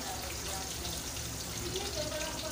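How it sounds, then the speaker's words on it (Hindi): Water pours steadily into a pressure cooker holding karela gosht ingredients, a soft continuous splash that stays even for a few seconds. "चलें जी अब हम इसमें डालते हैं थोड़ा सा पानी।"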